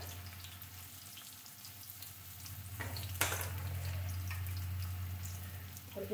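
Green papaya pieces fry in a pan until golden, a faint steady sizzle over a low hum, with a brief scrape of stirring midway and no talking.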